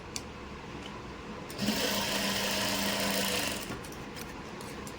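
A sewing machine stitches a kurti shoulder strip, its steady whirring run rising for about two seconds in the middle of the clip over a constant room hum, fairly close and with no talking.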